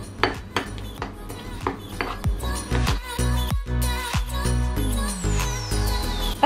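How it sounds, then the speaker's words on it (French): Metal utensil clinks and scrapes against a bowl while a chocolate mixture is stirred for a healthy meal-prep bake, a busy series of close, irregular knocks and clatters with no talk. "on va tout mélanger dans un bol"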